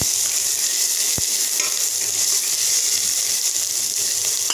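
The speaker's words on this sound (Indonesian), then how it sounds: "masukkan bawang putih, bawang merah" Garlic and shallots frying in oil for a simple prawn soup, a steady bright sizzle with one sharp tap early on, close and continuous without speech.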